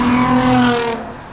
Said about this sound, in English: Homie's got a race car.